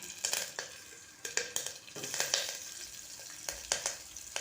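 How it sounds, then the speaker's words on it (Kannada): Onions sizzle in hot oil in a pan alongside curry leaves for a fenugreek rice dish, a steady close frying hiss broken by several sharper bursts as the pan is stirred. "ಈರುಳ್ಳಿ ಚೆನ್ನಾಗಿ ಫ್ರೈ ಆಗಬೇಕು ಗೋಲ್ಡನ್ ಕಲರ್ ಬರಬೇಕು"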